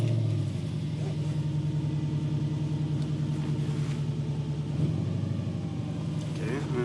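Infiniti Q45 engine on its first drive after a new 3.692 rear end was fitted: a steady, close, low in-car engine drone at a fairly constant pitch, running throughout with a slight swell near the end.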